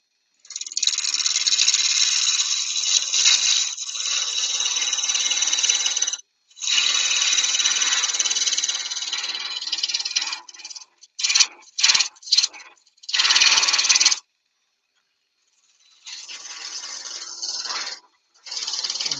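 Wood is turned on a lathe with a spindle roughing gouge for a natural-edge vase, producing loud, close rasping, scraping cuts in long sustained passes broken by pauses and a burst of short, choppy strokes, no voices.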